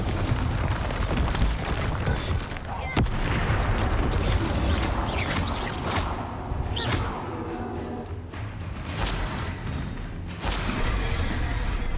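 Explosive spell blasts during combat in the video game Hogwarts Legacy, with booming thuds and crackling bursts layered over busy battle effects and game sound, several impacts spread across the clip.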